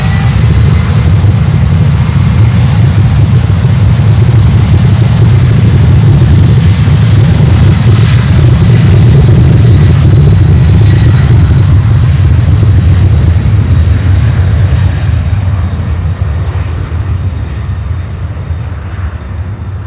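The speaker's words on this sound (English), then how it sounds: "Take off right away. Take off thrust set." An airliner taking off at Miami Airport, its jet engines spooled to takeoff thrust in a loud, steady low roar that holds for most of the stretch and eases slightly as it pulls away.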